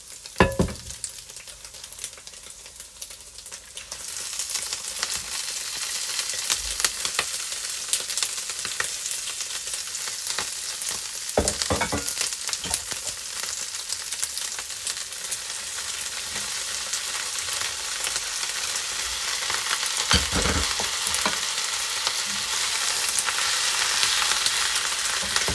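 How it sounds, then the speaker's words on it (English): Loud, continuous sizzling and crackling of ginger greens stir-frying in a hot pan, with a few scraping stirs, steady for the whole stretch and no voices. "gonna get loads of sizzling noises now"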